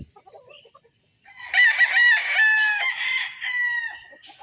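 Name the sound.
rooster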